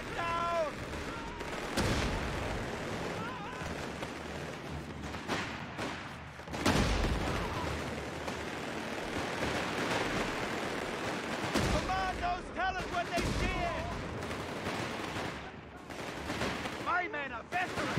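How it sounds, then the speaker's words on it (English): Machine gun bunker fires in a Company of Heroes 3 North Africa campaign battle: rapid automatic bursts pile into dense combat noise with booming impacts, steady and loud throughout, with occasional voices mixed in. "Machine gun bunker actually being very handy there"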